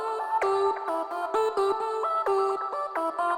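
Synth lead phrase from a music production project with the Singomakers Magic Stereo widening plugin toggled on and off, a steady run of bright plucky notes, loud and close with no talking.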